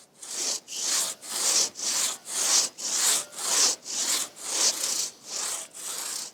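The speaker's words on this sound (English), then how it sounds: "Then it's back to sawing the other side to meet up with the cut." A hand saw cuts through a tree trunk in a steady back-and-forth rhythm, about a dozen rasping strokes, close and alone.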